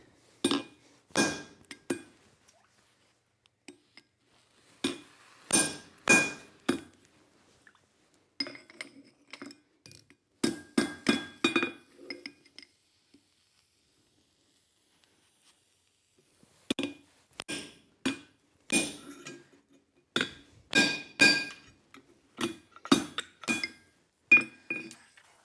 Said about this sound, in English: Now I need to punch holes.